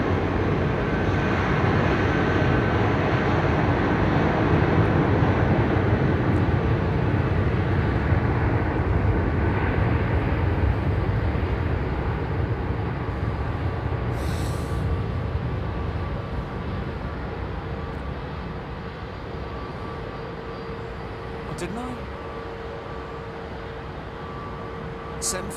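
An Icelandair airliner at London Heathrow Airport, a broad steady jet rumble that is loud at first and gradually fades over about twenty-five seconds, with brief voices in the background.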